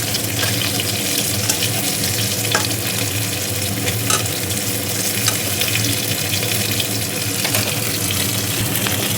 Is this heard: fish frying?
yes